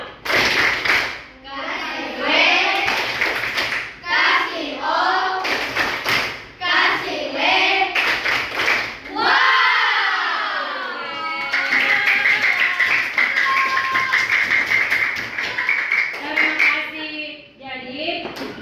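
Children in a classroom coding lesson perform a clapping chant routine, rhythmic bursts of claps mixed with loud young voices calling out, repeated several times over about eighteen seconds.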